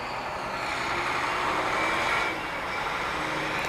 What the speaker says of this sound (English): I hear trucks passing by and they're making loud noises